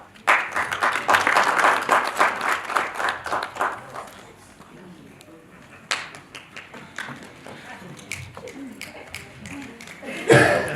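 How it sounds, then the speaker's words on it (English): At a workshop, a burst of clapping from a small group fills the first few seconds, fading into scattered claps and light chatter, then a brief loud clap near the end. "Team Monday, please, round of applause"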